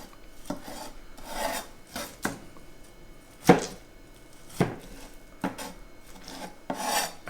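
Knife scraping and cutting the cores out of roasted tomatoes on a board, irregular rasping strokes with a few sharper taps, close and fairly quiet, no talking.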